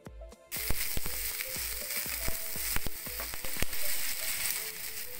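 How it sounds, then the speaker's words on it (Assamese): Onions frying in a pan until reddish, a continuous close sizzle punctuated by sharp repeated clicks and scrapes of stirring, with no voices. "সেই পিঁয়াজটো মই অলপ ৰঙচুৱাকৈ ভাজি ল'ম।"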